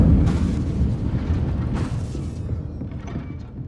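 In Hogwarts Legacy, an Incendio fire spell goes off as a loud whooshing burst, with a second rumbling blast that fades into a roaring fiery tail.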